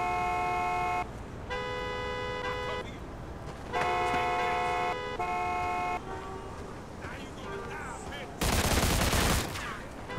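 Gunfire erupts during a street shootout in the game Mafia 2, with a car horn blaring on and off and a loud burst of shots near the end; a voice is heard over the action.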